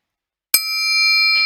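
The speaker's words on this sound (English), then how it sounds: "they will again hear the bell" A single bell rings at a startup pitch event, one sharp struck ding that rings out with a long, bright sustained tone.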